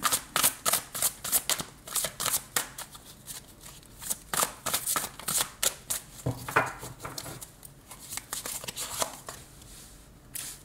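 Tarot cards shuffle and get drawn close up in a long run of quick papery riffles and slaps, soft and uneven in rhythm, with short pauses between bursts.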